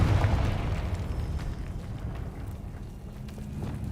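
A Confringo blasting spell goes off in Hogwarts Legacy, a heavy booming explosion that hits loudly at the start and rumbles away over a few seconds.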